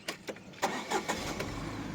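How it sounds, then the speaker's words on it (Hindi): A 2019 Tata Tiago XZ petrol engine cranks and catches, a few sharp bursts settling into a low, steady idle rumble heard up close, with no speech. "Petrol engine. अब देखना आवाज़ सुनना"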